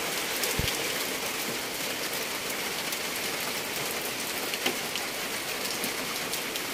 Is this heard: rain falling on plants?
yes